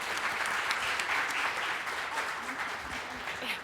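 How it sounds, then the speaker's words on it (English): An audience applauds at a talk on becoming a certified autism destination. The steady, dense clapping fills the room for a few seconds. "I was clapping."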